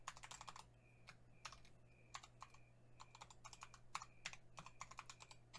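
Keystrokes on a computer keyboard entering a username into a Windows credential prompt, a quick irregular patter of clicks in short bursts over a low steady hum, fairly quiet and close with no talking.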